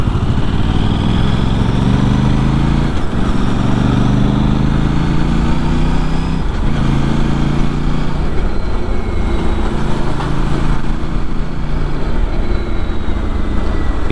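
Aprilia RS 457 sport motorcycle engine and exhaust, a steady loud throbbing rumble with rising and falling revs, heard close and continuous without talk.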